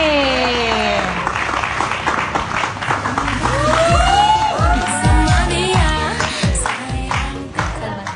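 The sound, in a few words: audience applause and cheering for a mystery guest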